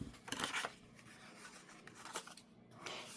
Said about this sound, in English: So I'm just going to cut the flap off the top so it's straight.